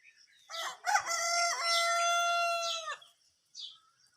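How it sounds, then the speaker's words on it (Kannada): A village rooster gives one long, clear crow near the listener, followed by a brief softer call, with quiet surroundings and no speech. "ನೋಡಿ ಹುಂಜುಗಳು ಕೂಗ್ತಾ ಇದ್ದಾವೆ ಸ್ನೇಹಿತರೆ"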